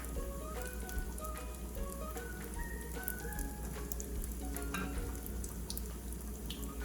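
Vegetable lumpia frying in oil, a soft, continuous crackling sizzle with faint popping that holds steady throughout.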